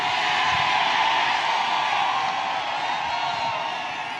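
A big crowd at a Make America Great Again rally in Scranton, Pennsylvania roars and cheers in a loud, sustained wash of whoops and yells that eases slightly toward the end.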